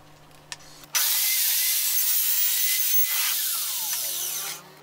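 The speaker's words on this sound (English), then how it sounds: "I'm cutting the 6 millimeter plywood on my panel saw." A panel saw slices through 6 mm plywood for an air filtration enclosure: a loud, steady high-pitched whine and rasp starts abruptly after a brief tap, holds for nearly four seconds, then cuts off.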